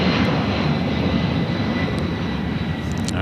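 An American Airlines jet airliner takes off from runway 25 right at LAX, a loud, steady roaring rumble that holds at full strength throughout.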